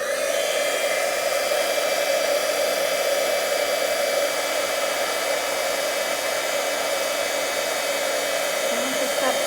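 A heat tool blows steadily and loudly, close by, melting embossing powder on a stamped card, a continuous whirring roar with an even tone throughout and no pauses.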